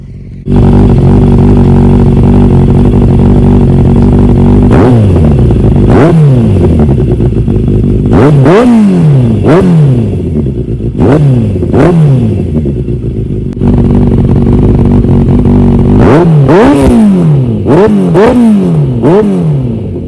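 A Yamaha FZR600 with an aftermarket exhaust idles loudly with a deep, throaty note, then revs sharply several times in quick blips, falling back to idle between bursts.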